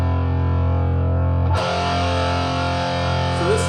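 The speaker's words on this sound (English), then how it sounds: "So this is like 12 o'clock distortion." Electric guitar played through a distortion pedal set around the midpoint, sustained thick buzzing chords ringing loud, with a fresh strummed attack partway through and no talk.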